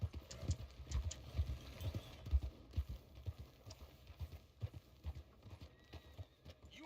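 A horse's hooves clip-clopping nearby outdoors, an uneven series of dull thuds as it walks, faint and low, with a soft whinny-like sound mixed in and no talk.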